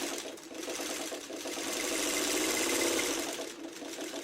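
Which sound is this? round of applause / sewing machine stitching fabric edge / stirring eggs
sewing machine stitching fabric edge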